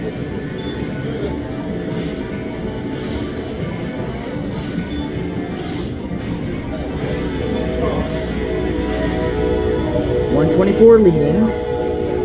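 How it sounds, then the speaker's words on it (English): An Amtrak passenger train rumbles past in Orange, Virginia, with a steady roar of rolling wheels, a horn sounding toward the end, and a short spoken word early on. "We got an Amtrak train coming."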